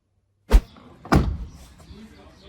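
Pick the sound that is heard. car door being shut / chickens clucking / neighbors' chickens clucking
car door being shut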